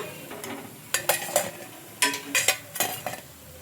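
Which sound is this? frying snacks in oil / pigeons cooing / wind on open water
frying snacks in oil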